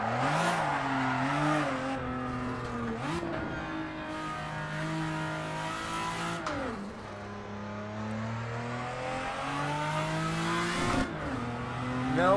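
A Toyota Supra drifts in Assetto Corsa with a continuous, loud engine note that rises and falls through repeated revs and shifts, over a steady tire-squeal hiss, with no talking.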